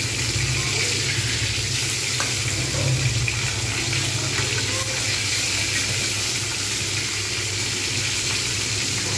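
Pieces of bhetki fish frying in an oil-filled pan, cooked before going into a cauliflower fish curry, giving a steady, even sizzling hiss that runs unbroken from start to finish.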